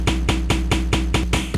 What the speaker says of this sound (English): And then the third effect is the glitch,